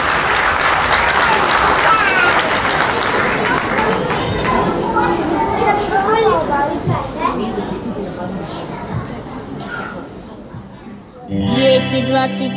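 Lively applause at a children's music concert for a group of young performers, loud dense clapping that thins out over several seconds as children chatter and move about, ending as music starts.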